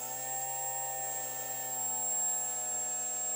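A foamboard Fokker triplane RC model's electric motor held at low throttle on the ground, a steady, close whining buzz with several fixed tones and no pauses.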